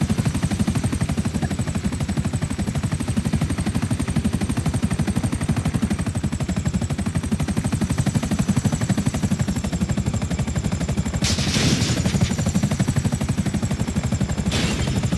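A helicopter in GTA V comes in to land, its rotor a loud, continuous rapid chopping throb with a high turbine whine over it, steady throughout with a couple of brief bursts of extra noise near the end.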